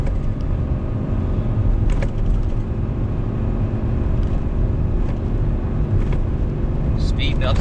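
A Ram 3500 Cummins pickup towing a heavy load downhill on a snowy road holds back under engine braking, a steady low drone under continuous talk, with occasional clicks and bumps.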